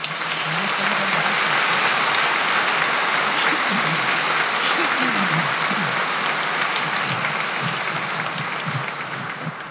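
A congregation at a Chrism Mass welcomes Padre Ángel with warm applause, loud continuous clapping filling the space, while voices murmur beneath it throughout.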